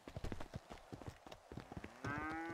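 A cow lows in a video game with a short, drawn-out moo at the end, after a run of quick hoof-like clip-clops.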